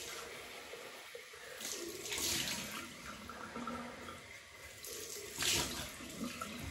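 Tap water runs and splashes into a sink while a man rinses alum from his face after shaving, bursts of flow rising and falling close by, with no voices.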